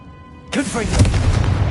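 A Confringo blasting spell from Hogwarts Legacy erupts in a single sudden burst, then a sustained rumbling, crackling roar that holds steady for over a second, loud and close with no talk over it.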